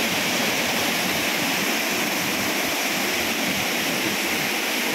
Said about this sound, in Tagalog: Ayan na guys yung falls na pinagmamalaki sa taga dito.